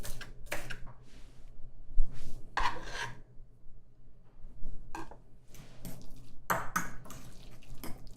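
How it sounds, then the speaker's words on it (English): Fresh dill is chopped with a knife on a board for smoked salmon guacamole: irregular scraping and cutting strokes at close range, some with soft clattering, alone without talk. "we're just gonna cut up the dill and place it into the same bowl"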